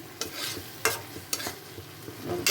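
A spoon scrapes and stirs masala with boiled onion and garlic in a pan, several distinct sharp strokes over a soft, quiet sizzle.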